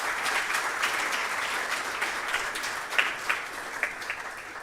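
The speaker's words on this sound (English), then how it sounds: "Shall we give a round of applause to all of us?" Audience applause rings out at a quality week closing ceremony, a steady wash of many hands clapping, with a few sharper individual claps standing out near the end.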